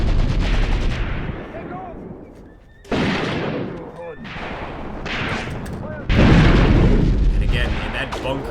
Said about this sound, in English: I want to get a few more rounds off with this piece of artillery